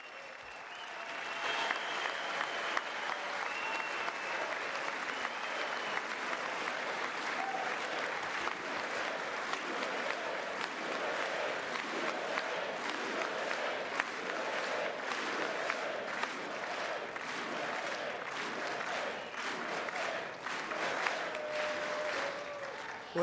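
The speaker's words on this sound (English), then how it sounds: "applause continues for President Trump" Sustained applause from a large crowd in the House chamber greets President Trump at the State of the Union address, dense clapping holding steady for over twenty seconds with faint crowd voices mixed in.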